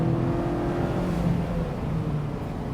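A 2024 Mazda MX-5 Miata engine spins near its 7,500 RPM redline, a steady, close, droning engine note held for a few seconds.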